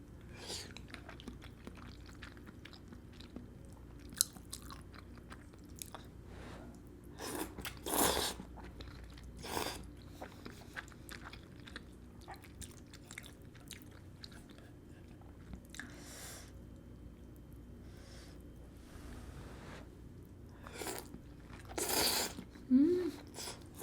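Close, soft chewing and slurping of chashu pork instant ramen noodles, with quiet intermittent crunchy bites and mouth sounds, some louder bursts, and occasional murmurs.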